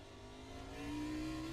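A race car engine in the iRacing Xfinity Series game at Road America hums steadily and then revs higher as it shifts gears, its pitch climbing as it accelerates, with a continuous mechanical drone throughout.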